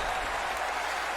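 Crowd cheering at a virtual college basketball game between West Virginia and Duke rises as a broad, steady roar, brief and fairly faint behind the play.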